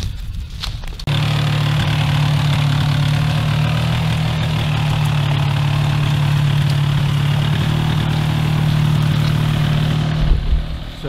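A chainsaw engine drones at a constant pitch for several seconds, loud and close, with no voices.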